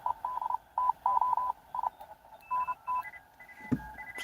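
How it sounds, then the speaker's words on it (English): Morse code on the 10 meter band comes through a radio receiver as short and long beeping tones in irregular keyed bursts over faint static hiss, with a second weaker signal at another pitch joining later. "This is a bit of 10 meters CW."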